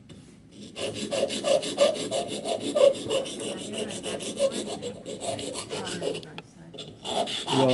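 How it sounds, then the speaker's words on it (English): A tool is sharpened on a two-sided oil stone with fine and coarse faces, close rhythmic back-and-forth rasping strokes in a steady series, with a brief spoken word. "This is an oil stone, and it's two-sided. It's got a fine and a coarse side. Let's see what it's like trying to sharpen."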